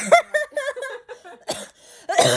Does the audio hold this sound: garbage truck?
no